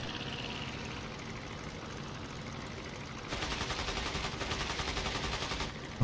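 Machine gun fire in the World War I flight game Rise of Flight: a rapid, rhythmic burst of about two seconds over a steady droning engine.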